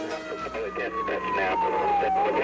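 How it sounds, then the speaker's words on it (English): An Andover police car siren wailing a tornado warning through a mobile home park, a loud, close, sweeping tone rising and falling steadily over a busy background. "an Andover police car speeds through the Golden Spur Mobile Home Park, trying to sound a warning and get people to take cover"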